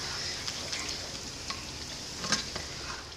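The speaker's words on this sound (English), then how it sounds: "And then I'm going to let it simmer for about 30 minutes." Pot of homemade chili simmering on the stove for fries topping, a faint continuous soft sizzle and bubbling with a few small pops and clicks, close and quiet.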